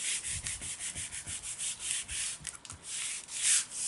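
A finger dauber rubbing ink onto a wooden clock piece makes quiet, rhythmic scrubbing strokes, a soft repeated brushing at close range with no talk.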